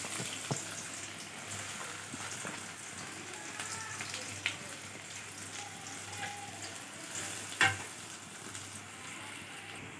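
Steady, even sizzling of onions sautéing in a hot pan, continuing throughout with a few small pops and clatters.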